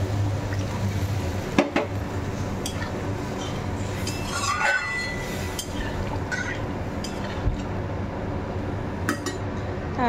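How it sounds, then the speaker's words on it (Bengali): Water is poured into a pan of mustard-poppy-seed bhola fish curry, a liquid splash and gurgle with occasional clinks of utensils against the pan, close and steady, no voices. "দিয়ে দিলাম জল, বেশি ভাজিনি।"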